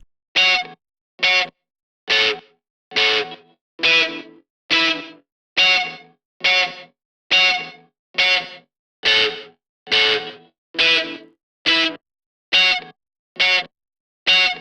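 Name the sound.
electric guitar through Waves Voltage Amp with room reverb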